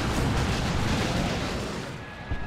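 An Eldar singularity ability going off in Dawn of War 2 during an Eldar versus Tyranids match, a dense, loud rumbling blast that fills the whole moment and fades slightly at the end.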